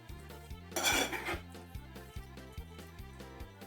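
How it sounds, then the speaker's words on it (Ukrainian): A spoon stirring poppy seed dip (machanka) in a bowl, giving repeated close clinks and taps against the bowl in an uneven rhythm, with one louder scraping swirl near the start and a low hum behind. "Все ретельно перемішую."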